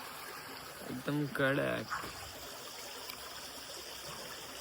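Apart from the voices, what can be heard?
flowing water of a stream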